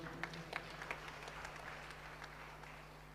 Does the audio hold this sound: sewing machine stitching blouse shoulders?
no